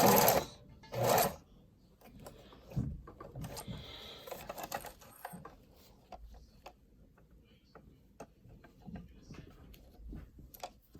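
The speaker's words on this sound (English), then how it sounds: "I'm just gonna sew it underneath the waistline, like so." A sewing machine stitches a two-color ribbon tutu, sewing a bow just under the waistline, whirring in short bursts with pauses and ticking handling noises between runs.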